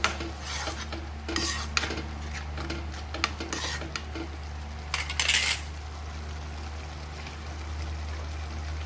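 Spinach puree is stirred into a pan for palak paneer with a metal spoon, giving repeated clinks and scrapes against the pan. A bright cluster of scraping comes midway, over a low, steady background hum.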